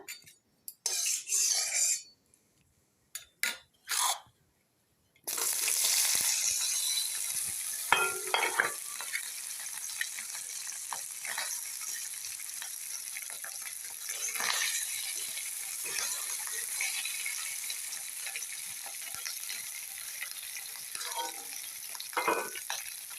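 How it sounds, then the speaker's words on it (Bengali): Paneer fries in oil in a kadai: after a few seconds of clinks and handling, a close, steady sizzle takes over, punctuated by occasional scrapes and spatula clicks. "পনিরগুলো ভেজে নেব। কড়াইতে তেল দিয়ে দেবো।"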